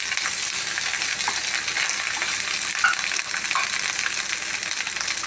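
Curry leaves and green chillies frying in oil in a pan give a steady, dense sizzle that carries on without a break, close and fairly loud, with a faint pop near the middle and no voices.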